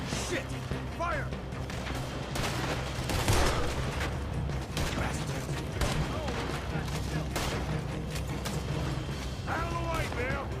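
Shootout in Red Dead Redemption 2: repeated sharp gunshots crack in quick irregular bursts amid clattering action noise, with characters shouting and talking over the firefight.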